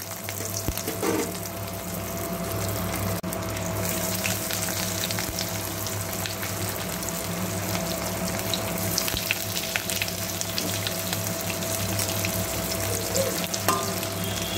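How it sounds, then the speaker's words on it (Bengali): Chicken nuggets deep frying in a wok of very hot white oil, a continuous close bubbling sizzle and crackle with an occasional clink, no talking. "এইভাবে ডিপ ফ্রাই করে নেব।"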